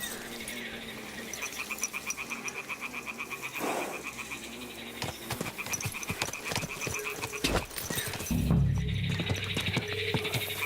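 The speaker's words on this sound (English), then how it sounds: "The toads are croaking here." Toads croak in Kingdom Come Deliverance 2 in a steady, rapid series of rhythmic croaking pulses that run through the whole stretch, with rustling ambience underneath.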